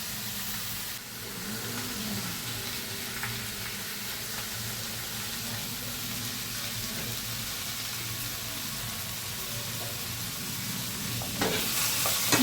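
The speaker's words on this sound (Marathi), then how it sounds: "वांगा त्याच्यात फ्राय करून घेऊया" Brinjal sautéing in a hot pan, giving a steady close sizzle and frying hiss with light stirring scrapes throughout.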